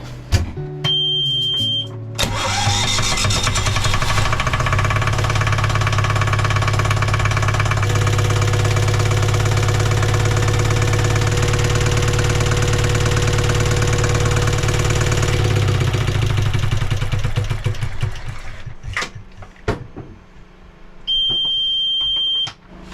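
A boat engine cranks and catches, then idles loudly and steadily for about fifteen seconds before winding down; a high-pitched alarm beep sounds at the start and end.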